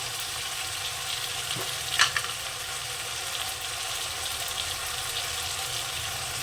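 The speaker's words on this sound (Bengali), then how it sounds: "এবার মশলাটাকে আমি আবার সুন্দর করে কষে নেবো" Ground ginger, garlic and cumin masala fries in a pan for a tangra fish curry, giving a steady moderate sizzle with one brief scrape of stirring.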